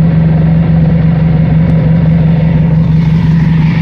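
A Honda ST 1100 Pan European motorcycle engine, started by bridging the starter relay with two wires, runs as a loud, steady idle with an even low rumble throughout.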